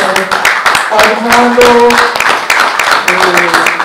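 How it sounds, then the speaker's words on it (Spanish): Audience at a tribute to professor Armando Suescún breaks into loud, close clapping that builds and continues, with a voice speaking over it. "un aplauso entonces para el profesor"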